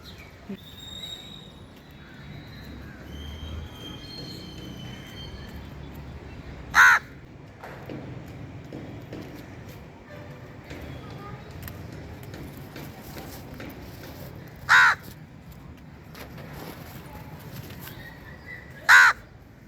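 Three single crow caws ring out, widely spaced, over a soft steady outdoor hum on a terrace garden, with long quiet gaps between calls.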